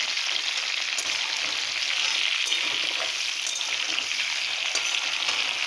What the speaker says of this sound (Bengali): হ্যাঁ, এই ভাজা হয়ে যাবে পটলটা।